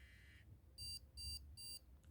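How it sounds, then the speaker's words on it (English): An insulin pump sounds three short, evenly spaced electronic beeps after its load button is pressed, clear and close against a quiet low hum. "you hear a beep."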